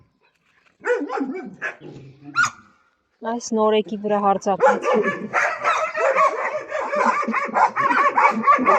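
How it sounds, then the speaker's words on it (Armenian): Several dogs bark close by amid fights over a newcomer dog, first in a few separate yelps, then in a dense, overlapping burst, while a person talks over the noise. "իսկ դուք հաչում եք"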